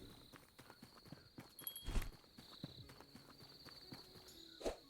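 Horse hooves clip-clopping in a tavern video game, a steady run of soft, even steps over a faint high tone, with a few louder knocks.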